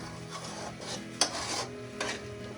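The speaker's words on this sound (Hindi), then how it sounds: "अगली सुबह मैंने किचन के फ्राई संभाले और नाश्ता गर्म किया।" Breakfast being fried and reheated in a kitchen in Gilgit, with steady sizzling and scraping of a utensil against a pan, plus a couple of sharp metallic clinks, close and moderately loud with no talking.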